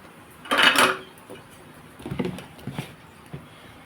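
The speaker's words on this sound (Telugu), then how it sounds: "ఇందులో వాటర్ వేసుకొని స్టవ్ మీద పెడతాను గిన్నె ఇడ్లీ పాత్ర" A metal idli steamer pot holding water is set on a kitchen stove, a short clattering clank followed by a few lighter knocks of metal against metal.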